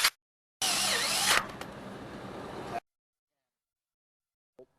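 A power drill drives self-drilling screws into a steel web bracket at the roof peak of a steel building kit, a single close, steady whirring burst of about two seconds that stops abruptly, followed by quiet.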